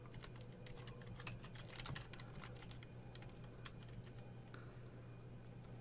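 Computer keyboard typing while entering HTML code, a quick run of close, crisp key clicks with irregular rhythm and brief pauses, no voices.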